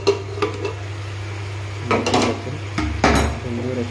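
Chicken curry being stirred in a cooking pot, dhaba style, with a few scraping and clinking knocks of a spoon against the pot over a steady low hum of cooking.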